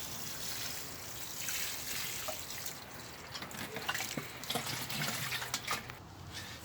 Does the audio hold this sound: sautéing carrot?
no